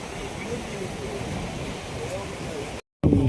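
Steady rushing water of a Himalayan mountain stream in Nepal fills the scene, a broad continuous wash flowing nearby, cut by a brief dropout near the end.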